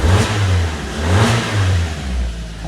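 A car engine revving loudly and roughly, with repeated rising and falling surges of low growl, close by and without talk.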